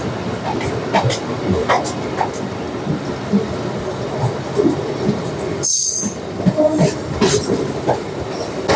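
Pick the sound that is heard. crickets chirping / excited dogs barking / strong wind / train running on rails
train running on rails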